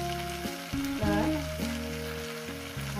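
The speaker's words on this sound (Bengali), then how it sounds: "দিয়ে দেবো এখানে ঘি," Ghee sizzles in a pan with banana flower masala, a close frying hiss under a faint tonal hum that glides and steps, with light stirring through the few seconds and no talk.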